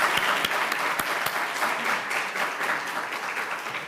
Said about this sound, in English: let's hear another big round of applause for our finalists.